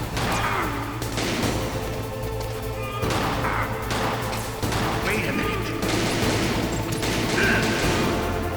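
Gunfire in the video game Metal Gear Solid: several sharp shots and impacts burst out over a dense, continuous bed of game music and ambience, fairly loud and closely mixed.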